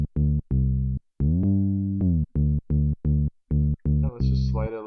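A synth plays short staccato notes in FL Studio's piano roll, with one held note gliding down and then back up in pitch, followed by more clipped notes; a brief voice comes in near the end.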